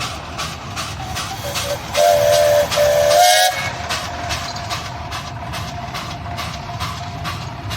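A steam tractor at a steam parade sounds its whistle in two shrill, steady blasts of about a second each, loud over a continuous hissing and chuffing engine background.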